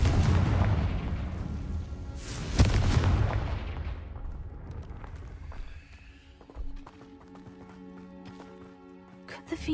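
A blast spell goes off in a Harry Potter video game, with a loud broadband boom at the start and a second sharp burst a couple of seconds later, then fading rumble and lighter game sounds.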